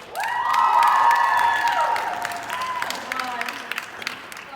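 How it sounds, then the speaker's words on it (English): Audience applause and cheering at a college culture show, a sustained crowd wash with whoops and a sung or voiced tone near the start, fading slightly over a few seconds. "Another round of applause, please."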